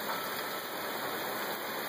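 May rain falls at night under a street light, a dense, even hiss of steady rainfall throughout, with no one speaking.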